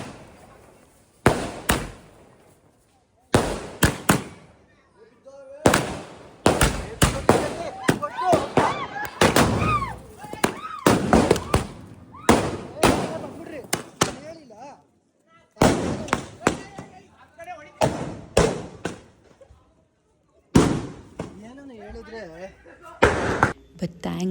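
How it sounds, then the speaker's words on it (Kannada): A fallen firecracker fires off sideways at a Ganesha festival celebration, giving repeated sharp bursts and pops in irregular clusters, loud and close, with excited voices and shouting between and over the blasts. "ಪಟಾಕಿ ಏನಾಯಿತು, ಬಿದ್ದೋಗ್ಬಿಡ್ತು. ಸೊ ಇಟ್ ಡೈರೆಕ್ಟ್ಲಿ ಇವ್ರ ಕಡೆ ಶೂಟ್ ಮಾಡೋಕ್ಕೆ ಸ್ಟಾರ್ಟ್ ಆಗಿಬಿಡ್ತು."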